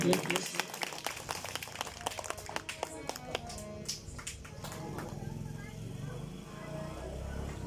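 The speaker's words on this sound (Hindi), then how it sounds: "आप लोग जोरदार तालियों के साथ स्वागत करेंगे।" A crowd of listeners applauding to welcome a donor at a Shrimad Bhagavat Katha gathering, a faint, steady patter of clapping that thins out, with a voice speaking over it.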